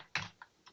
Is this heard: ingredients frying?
no